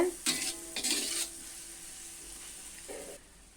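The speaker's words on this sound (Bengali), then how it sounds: "যতক্ষণ পর্যন্ত না তেল ছেড়ে আসছে ততক্ষণ পর্যন্ত আমি এভাবে ভাজতে থাকব" Spice masala frying in oil in a pan for a vegetarian banana blossom ghonto, a steady close sizzle with a few scraping stirs near the start.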